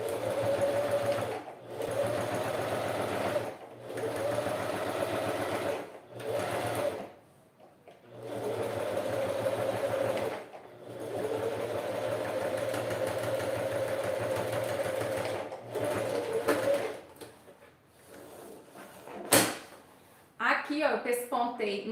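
A sewing machine topstitches synthetic leather in steady bursts of rapid stitching, stopping and starting several times, with a person talking between and over the runs.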